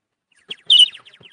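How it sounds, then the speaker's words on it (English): A street seller's toy bird whistle gives a brief burst of bright warbling chirps, with a small trill leading into one loud piercing tweet and quieter flutters trailing off, close and alone against silence. "Street seller, toy bird whistle."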